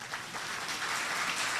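Audience applause rises at a mushaira poetry gathering in Jeddah, a brief, soft burst of many hands clapping together, heard from a distance and fairly quiet.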